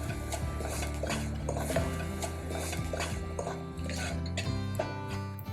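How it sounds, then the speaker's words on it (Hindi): Wheat flour being stirred and roasted in a pot while cooking a one-pot noodle soup, with a spoon scraping and clinking steadily against the pot over continuous background noise. "तो ये आटा अब इसके अंदर गया और इसे भी हम 1 मिनट के लिए भून लेते हैं।"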